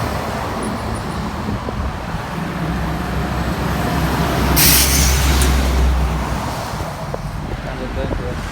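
Trucks roll past on a road at the start of a hike near Vlado Trichkov, Bulgaria: a constant roadway roar that builds to a heavy close pass with a sharp air-brake hiss midway, then eases back to steady traffic noise.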